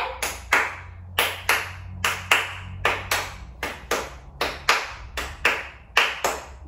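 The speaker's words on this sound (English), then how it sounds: "We've got double claps." Rhythmic pairs of sharp hand claps repeat steadily, one-two, one-two, close and crisp over a low background hum, with no talking.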